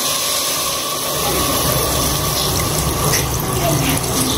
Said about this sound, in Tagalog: Maglagay ng tubig.